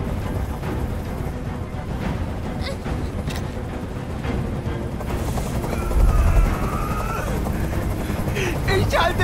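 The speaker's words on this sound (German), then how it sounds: "Dieser Helikopter soll verschwinden!" A helicopter in the video game Detroit: Become Human, during a hostage scene, hovers as a continuous low rotor rumble with sharp bursts and thumps over it while voices speak.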